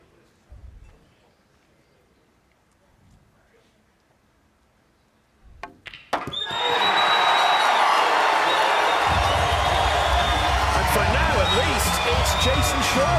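A packed arena crowd at a 2024 professional pool doubles match erupts after a made shot: a quiet stretch with a few soft knocks, then a sudden, loud, sustained roar of cheering that fills the rest of the clip.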